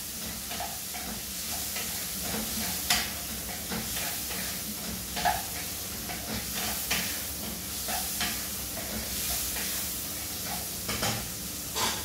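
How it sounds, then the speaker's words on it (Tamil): Red karamani (cowpeas) and vegetables sauté in a pan with a steady, close sizzle, while the spoon scrapes and taps against the pan in scattered strokes throughout. "நல்லா வதங்கணுங்க"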